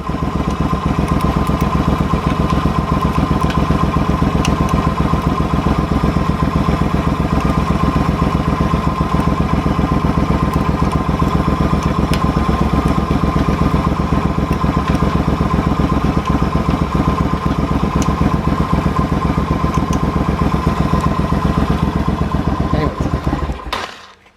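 A Suzuki VS1400 Intruder motorcycle engine, set to idle too low, idles steadily and loudly up close with a low, even throbbing rumble, cutting off abruptly at the end.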